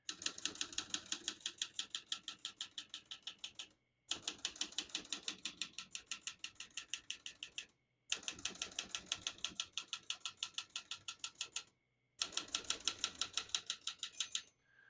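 Steady rapid clacking of a 1967 Olivetti Lettera 32 portable manual typewriter, keys striking in fast even runs, broken by three brief pauses, close and clear with no voices.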